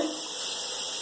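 Water from a shower head sprays steadily into a bowl of homemade slime, a continuous broad hissing rush that stays even and fairly loud throughout the short moment.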